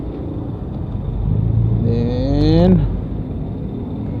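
Road traffic rumbles around a rider on a motorcycle or in a car, a steady low engine drone with a passing vehicle swelling louder midway, and a voice speaking briefly.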